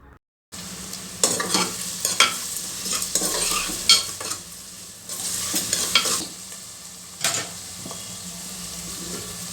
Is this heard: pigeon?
no